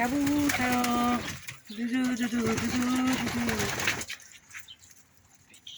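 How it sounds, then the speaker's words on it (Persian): Pigeons coo repeatedly while being fed by hand outdoors, a steady close chorus of low warbling calls for about four seconds, then fading to quieter background noise. "کبوترا"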